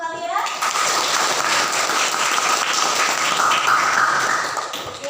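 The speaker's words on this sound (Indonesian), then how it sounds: "Sebelumnya kita kasih aplaus untuk kalian." A classroom of students bursts into applause for their student groups, a dense, steady patter of many hands clapping close by that holds for several seconds before tapering off.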